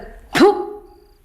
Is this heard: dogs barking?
yes